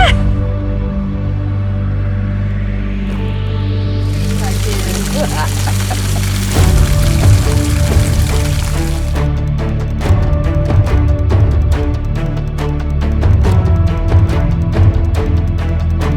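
Rushing water near the first waterfall on the 25 Fontes trail in Madeira makes a steady broadband roar that swells for a few seconds and then fades, while people talk over it.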